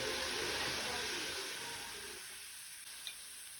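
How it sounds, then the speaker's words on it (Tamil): Chopped banana stem sizzles steadily in a hot pan, loud at first and gradually quieting, with a small clink near the end. "இதையும் போட்டு லேசாக வதக்கிக்கோங்க."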